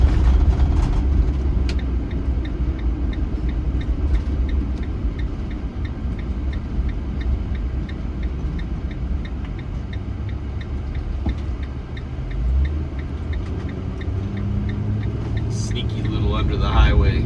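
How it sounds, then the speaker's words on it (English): Steady engine and road rumble from a car driving through a downtown area under a highway, continuous and close throughout, with a faint ticking like a turn signal. "that way we can drive through downtown"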